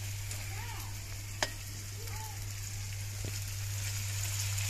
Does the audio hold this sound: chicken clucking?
no